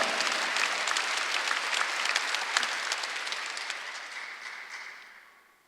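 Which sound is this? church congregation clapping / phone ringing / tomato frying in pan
church congregation clapping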